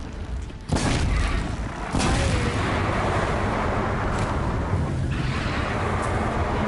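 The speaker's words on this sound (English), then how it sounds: "Explosions in the distance." Distant explosions in the video game Horizon make heavy, rumbling booms that roll together into a continuous roar, with a fresh blast near the start and another about two seconds in. No voices are heard.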